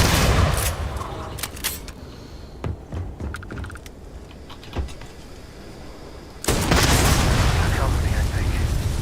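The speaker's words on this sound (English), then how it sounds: "Bombing run!" Bombing-run explosions in the space game Starfield: scattered booms and thuds through the middle, then a huge, sustained roaring blast that swells in and holds to the end.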